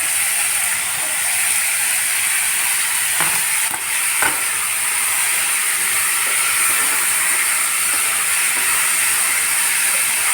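Chopped tomatoes fry in a hot pan for Indian brinjal with black-eyed peas, giving a steady loud hiss and sizzle with a few faint stirring scrapes.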